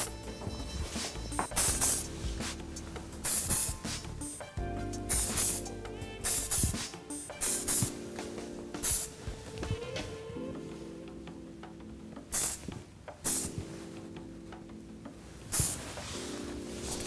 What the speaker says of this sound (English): Okay, some more hairspray.